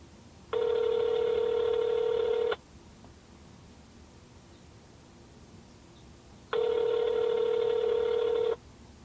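Two long ringback tones on an unanswered phone call to a restaurant, each about two seconds with a four-second gap, steady and clear against quiet background, no talking.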